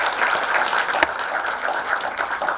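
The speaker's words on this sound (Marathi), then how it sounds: "या चारही संस्थांसाठी आपण एकदा जोरदार टाळ्या वाजवूया" An audience at an awards ceremony applauds, a dense steady wash of clapping that holds at even loudness for the whole stretch, with no voices over it.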